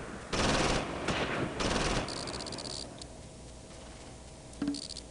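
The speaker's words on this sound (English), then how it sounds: "Who's shooting?" Bursts of automatic gunfire crackle in the Close Combat Normandy invasion war game, three dense volleys in the first two seconds, then fainter scattered shots and a final short burst near the end.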